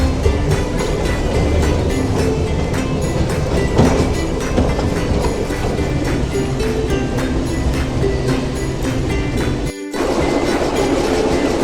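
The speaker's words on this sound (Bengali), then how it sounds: "ট্রেন এবার সামনের দিকে আবার চলতে আরম্ভ করেছে।" A Darjeeling Himalayan Railway toy train gets moving again, its wheels rattling with a continuous, close clatter and rumble that drops out for a moment near the end before resuming.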